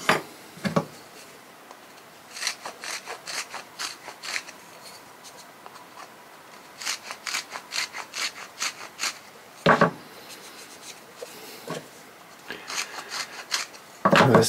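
Deburring a drilled paracord hole in wood: short bursts of dry rasping and rubbing, repeated in quick strokes with pauses between, close and fairly quiet with no talking.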